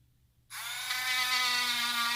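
A rotary tool spins up to polish the connector from a Glock 17 Gen 5 pistol, a steady high-pitched whine that starts abruptly and holds close and constant, with no talking.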